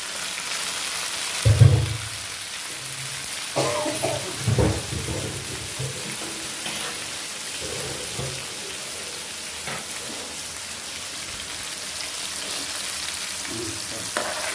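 Onions and curry leaves sauté in a pan for a Tirunelveli-style chicken gravy, giving a soft, steady sizzle close by, broken by a few louder clanks and scrapes of stirring.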